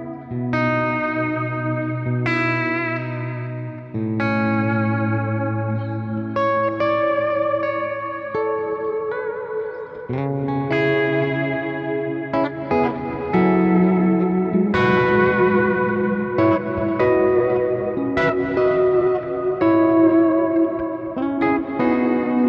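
Electric guitar played through a Kemper profiler with a large natural reverb and fairly long pre-delay: loud, continuous picked phrases and ringing chords whose notes wash into a spacious tail, with no voices.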